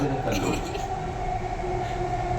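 A metro train running on its line, a steady loud rumble of wheels and motor filling the whole stretch, with voices talking over it throughout.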